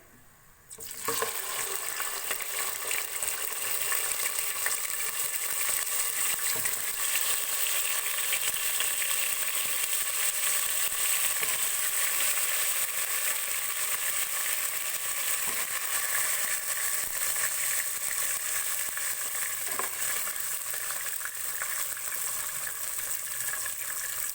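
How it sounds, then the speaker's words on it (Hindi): Ingredients for mutton paya fry lightly in a pan, a steady, dense sizzle that starts abruptly after a second and holds evenly and close throughout, with occasional faint stirring clicks. "इनको हल्का सा फ्राई करेंगे।"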